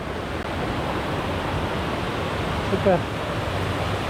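Small waterfall and cascades of the Ukanška Suha mountain stream, a steady broadband rush of falling water filling the whole stretch, close and even, with a brief spoken word partway through.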